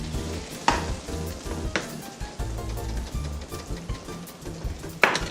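Garlic frying in a pan for a stir fry with julienned carrot and spring onions, a steady close sizzle with a few sharp clicks of a utensil against the pan.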